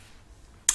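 A single sharp finger snap made to sync audio during ASMR recording, one crisp, close click arriving abruptly at the end of near silence.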